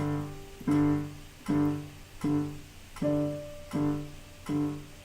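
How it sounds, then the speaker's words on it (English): A metronome sounds steady, even pulses at about 80 beats per minute, each with a slightly tonal ring, with no other sound. "I set the metronome here at about 80, which sounds like this"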